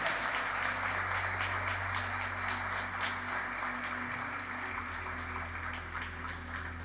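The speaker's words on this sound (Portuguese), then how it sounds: "Erga uma forte salva de palmas a Ele, ao nosso Senhor que está vivo e presente" Congregation in a church applauding together, a steady dense wash of clapping hands with a low sustained hum beneath, continuous and fairly loud throughout.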